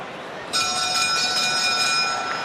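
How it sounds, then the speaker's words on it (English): A ringing bell marks the end of a boxing bout between Tyson Fury and Francesco Pianeta. It sustains with steady, bright tonal partials from mid-clip to the end, over a background of crowd noise. "There's the final bell."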